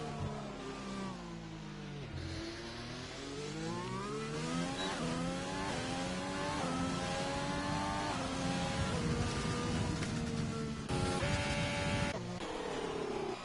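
F2 race cars lapping the Belgian Grand Prix circuit during qualifying in a racing video game, engines whining loudly and continuously as they rise and fall through gear changes.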